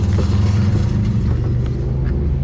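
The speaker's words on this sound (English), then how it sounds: "Exhaust snapped off at the flexi and has been dragging on the ground." Race-build car with its exhaust snapped off at the flex pipe dragging on the ground, giving a loud, steady low rumble with faint scraping on top.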